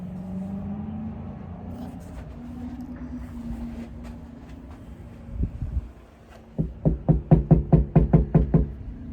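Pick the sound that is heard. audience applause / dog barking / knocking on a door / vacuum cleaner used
knocking on a door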